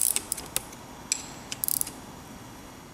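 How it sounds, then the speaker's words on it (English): Wrench tightening fittings into the ABS line-lock solenoid on a 2011-2014 Mustang, heard as a series of sharp metallic ratcheting clicks in irregular bursts early on, then fading to quiet. "And just tighten them down with the wrench."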